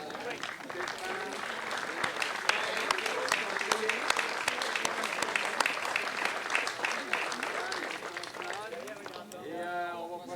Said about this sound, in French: Un autre groupe qui mérite une bonne main d'applaudissements